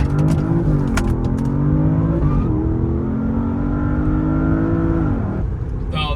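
A 700HP Porsche launches hard using launch control, its engine roaring loudly and steadily close by, with the tone rising through the gears and a brief dip at each shift.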